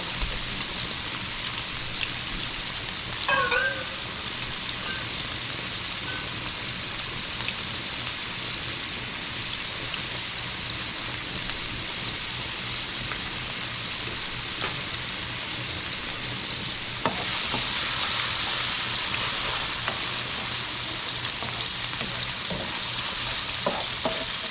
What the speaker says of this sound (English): Alright, so we're gonna saute the shrimp. Cook it up a little bit. Cook it up in the garlic.